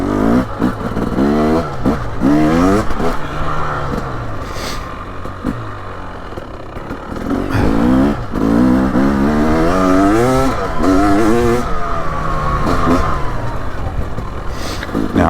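A 2023 Husqvarna TX300 two-stroke dirt bike engine on a trail ride revs repeatedly in sharp, rising bursts. Each blip is loud and close, falling back between throttle twists, with a constant buzzing drone throughout.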